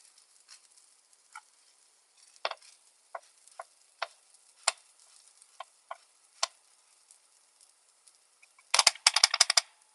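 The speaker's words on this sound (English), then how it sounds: "So right now we're toasting rice." Rice toasting in an Instant Pot gives sparse, light scrapes and ticks from stirring against the pot, scattered over quiet gaps, then a busy cluster of rapid scraping near the end.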